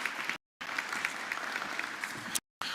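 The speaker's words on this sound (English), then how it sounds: "round of applause for our speakers right here" Audience applause at a CGIAR Science Week closing ceremony, dense steady clapping from a large crowd heard at moderate distance, cut by two brief silent gaps.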